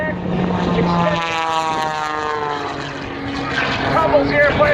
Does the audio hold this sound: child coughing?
no